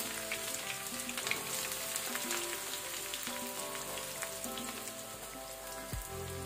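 Two medium onions frying in hot oil in a pan: a steady, dense sizzle and crackle throughout, with a brief stirring scrape near the end.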